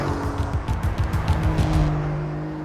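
A Porsche 911 4S takes a tight corner at speed, its loud engine roaring steadily close by with pulsing, rising and falling tones as it accelerates, then easing slightly toward the end; no talking.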